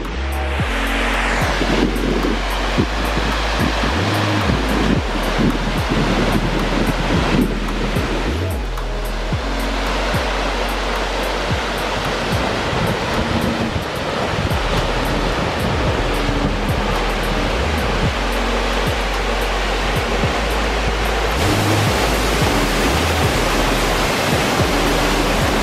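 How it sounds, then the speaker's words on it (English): The tall waterfall at Meander Falls roars in a loud, constant broadband rush that fills the whole stretch without pause, with no talk over it. "Here I am at Meander Falls, and it is, I was right, it's really tall."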